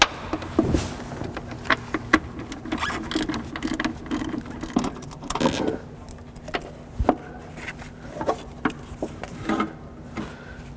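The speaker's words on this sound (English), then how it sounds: "Now let's get the fasteners off for the motor." Wiper motor fasteners being loosened on a Mazda, giving a run of sharp ratcheting clicks and small metallic knocks at close range, coming in irregular bursts with brief pauses between them.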